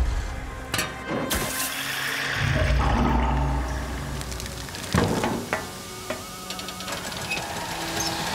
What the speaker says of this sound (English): I'll fill up the water tank.